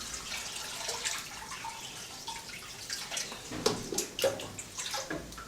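Cold water pours into a cast iron pot during seasoning, a fairly faint run of splashing and trickling with irregular bursts and drips that grow busier toward the end.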